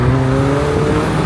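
A McLaren 720S sports car engine drones loudly and close by, holding a steady, strained tone with a slight rise in pitch across the short stretch.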